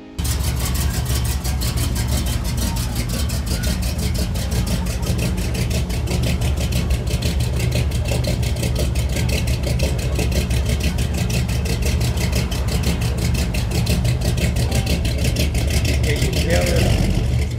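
1985 squarebody dually truck with a factory 454 V8 idling, a loud steady low rumble with a fast even pulse throughout and no talk.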